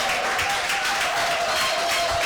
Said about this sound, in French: Euer Klatschen hat mich nicht überzeugt.